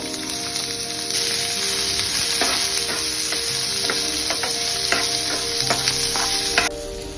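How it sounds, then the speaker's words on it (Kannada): Onions and garlic fry in a little oil for a village-style drumstick leaf sambar, giving a loud, continuous sizzle that starts after a moment, with repeated scraping stirs through it. "ರುಬ್ಬಕ್ಕೂ ಮುಂಚೆ ಈರುಳ್ಳಿ ಮತ್ತೆ ಬೆಳ್ಳುಳ್ಳಿನ ಸ್ವಲ್ಪ ಎಣ್ಣೆಲಿ ಫ್ರೈ ಮಾಡ್ಕೋಬೇಕು"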